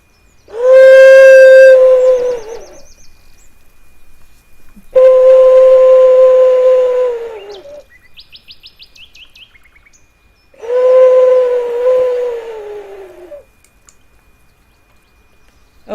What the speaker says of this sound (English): this is my owl, and it's a whistle, so I'm going to whistle for you guys a little bit more